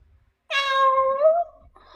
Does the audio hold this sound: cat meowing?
yes